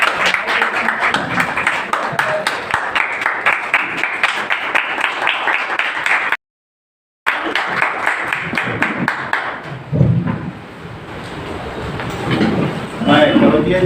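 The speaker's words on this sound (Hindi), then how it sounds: "बड़ी खुशी की बात है। तालियां बजाइए।" An audience at a monthly Hindi poetry gathering on Makar Sankranti claps in a dense, rhythmic burst that fills the room, breaks off for a moment of silence, then resumes more loosely with voices murmuring underneath.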